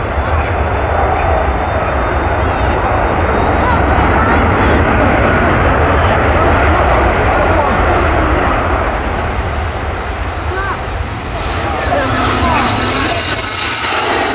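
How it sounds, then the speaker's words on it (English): An Airbus A330 jet at Manchester Airport gives a loud, sustained engine roar that holds steady and then shifts in tone toward the end, with people talking intermittently underneath. "Big plane."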